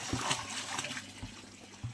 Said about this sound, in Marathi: हा पाणी ओतू परत ज्याच्याला होता त्यात